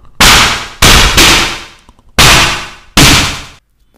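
A human voice imitates bursts of continuous automatic weapon fire with the mouth: four loud, harsh bursts, each sustained and fading, with short gaps between them and no other sound.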